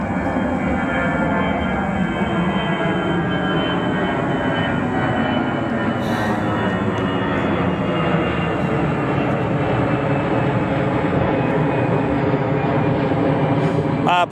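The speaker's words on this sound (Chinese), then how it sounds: "主播每天都会在这里给大家拍飞机的起飞和落地啊" A Jiuyuan Airlines airliner roars at an airport during takeoff or landing, a loud, steady engine rumble with a rising whine that stays unbroken and close for the whole stretch.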